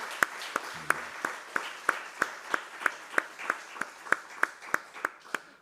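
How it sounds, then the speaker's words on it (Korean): A small church congregation claps for its lunch volunteers in a slow, even rhythm of about fifteen distinct, moderately close claps, with a brief low murmur near the start. "오늘 수고해 주신 분들 우리 수고했다고 박수 한번 쳐주시죠."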